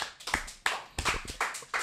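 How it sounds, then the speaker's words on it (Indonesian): A few pairs of hands clap close by in a short, uneven burst of about eight sharp claps in a quiet indoor space. "Tepuk tangan untuk kalian teman-teman"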